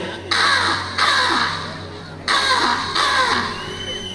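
A voice imitates a crow: four loud, harsh caws in two pairs, close to the listener, with short silent gaps between them.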